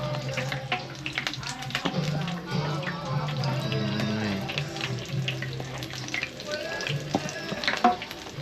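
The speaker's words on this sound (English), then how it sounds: "Oh, this is a deep fryer." Chicken frying in a deep fryer gives off a steady crackling sizzle and bubbling, while people talk over it in a small food business kitchen in Guyana.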